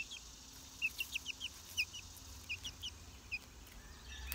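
A young chick gives a string of short, high-pitched peeps in small clusters, faint and close, with no talking over them.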